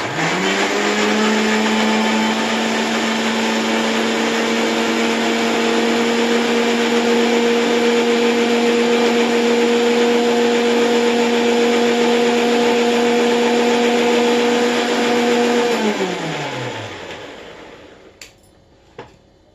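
A kitchen mixer grinds cloves, cinnamon and cardamom for pulao, a loud steady motor whine close by that runs for about fifteen seconds, then spins down and stops, with a couple of clicks at the end.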